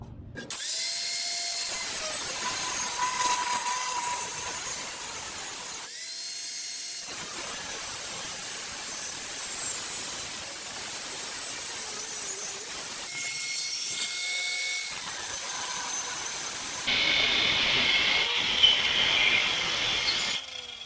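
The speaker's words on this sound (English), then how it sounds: "I ended up switching grinders." Angle grinder cutting through a bump stop on a 1967 VW Type 3 Squareback, a continuous loud, harsh high-pitched grinding whine with a few brief pauses and pitch shifts as the cut progresses, with no talking.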